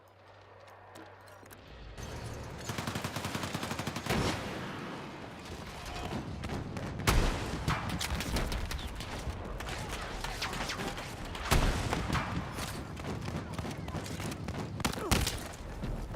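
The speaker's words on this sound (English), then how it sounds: "The snipers keep shooting me in the face." Sniper fire and other gunshots in a war video game with tanks, sharp cracks and thuds scattered across a dense, noisy battle soundscape, with some loud bursts standing out.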